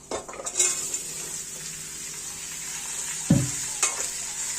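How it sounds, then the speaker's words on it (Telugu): Cucumber pieces fry with green chillies in a pan, a close steady sizzle with a spatula scraping and clinking against the metal, including a sharper knock near the end. "అలాగే కట్ చేసుకున్న దోసకాయ ముక్కలు వేసుకొని బాగా ఫ్రై చేసుకోవాలి"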